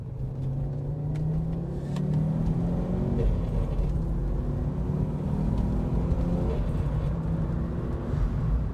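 A 1986 Audi Quattro UR pulls hard in second gear under turbo boost, its steady engine drone rising in rising harmonic sweeps with a constant deep rumble throughout, close and loud with no talking.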